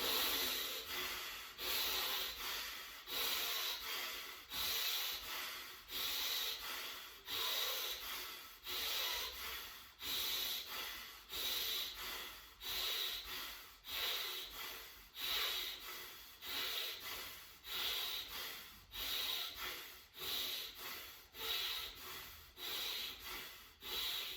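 Forceful nasal breathing reps in a guided breathing exercise, about twenty sharp rhythmic snorting exhalations repeating at a steady pace, close and loud, with no talking.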